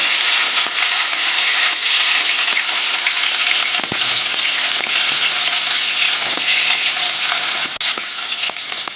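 Bitter gourd frying in oil in a wok gives a loud, steady sizzle that runs unbroken throughout, with a few faint clicks and a brief dip near the end.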